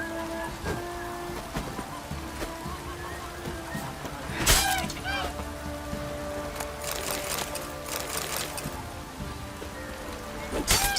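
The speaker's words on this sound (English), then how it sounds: "This downpour's a bastard, it is." Heavy rain pours down in a Witcher 3 game scene near a bog, a constant hiss of falling water broken by sharp clattering impacts and splashes, with game sounds layered over it.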